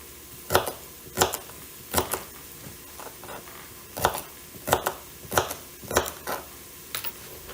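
A knife chops celery on a cutting board for a beef stew, giving about a dozen sharp, close thuds in an uneven rhythm with brief pauses and no talking.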